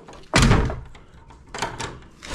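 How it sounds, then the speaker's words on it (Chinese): A door swings shut with one loud, close thud at a remote Tibetan lodge in winter, followed by fainter knocks and rattles as it settles. "把门再给它关上"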